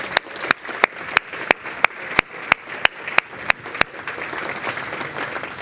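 Sharp, evenly spaced handclaps build into a steady wash of applause from a crowd at a Purple Day epilepsy awareness event, filling the last couple of seconds.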